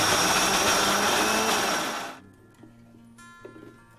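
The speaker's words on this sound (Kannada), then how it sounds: "ಇದನ್ನ ಮಿಕ್ಸಿ ಮಾಡಿ" A mixer grinder blends garlic, cumin and spices in a home kitchen, a loud steady whirring roar for about two seconds that cuts off abruptly, leaving quiet low hum and faint clinks.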